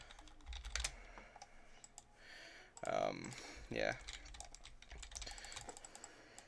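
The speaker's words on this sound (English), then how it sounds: "I have to use the arrow keys to like do stuff" Rapid clicks of computer keyboard keys being tapped during a Tower Heroes game, with brief talk and a short utterance in between; the keystrokes come in quick irregular bursts, close and fairly soft.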